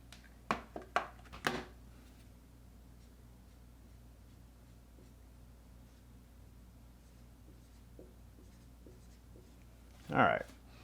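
Pen strokes write out a physics vector diagram, with a quick cluster of scratchy marks near the start, soft faint scribbling through the middle and one louder stroke near the end, all close and quiet.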